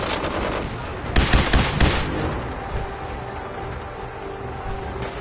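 Rapid automatic gunfire in Fallout 4 rattles out in a loud burst near the start, then fades into a lingering rumble and low background hum.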